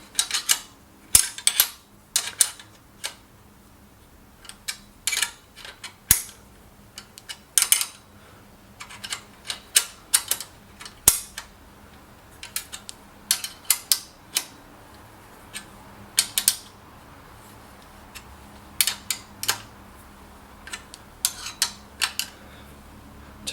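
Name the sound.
ratchet wrench tightening bolts on hand trolley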